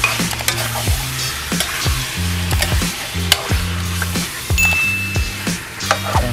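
Chicken for chicken caldereta sizzles loudly in an old frying pan, with repeated stirring scrapes and metallic clinks from a utensil against the pan.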